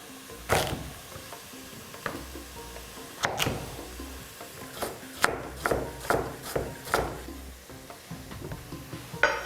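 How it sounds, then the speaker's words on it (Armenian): Finely chopped carrots tumbling into a pot, followed by a run of sharp stirring scrapes and clatters, close and fairly loud, with a light sizzle underneath and no voices. "Կաթսայի մեջ ավելացնում ենք նաև մանր կտրատած գազարը։"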